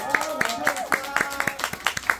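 At a post-screening appearance for a Lunar New Year film, an audience claps to welcome an actress. Sharp claps come in an even, quick rhythm, several each second, under a voice.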